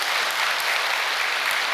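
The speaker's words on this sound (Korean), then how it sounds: "여러분 믿으시는 분은 크게 박수 한번 올려주시면 고맙겠습니다." Audience applause at a peace blessing ceremony, a steady dense wash of clapping from a large crowd that fills the whole moment without pause.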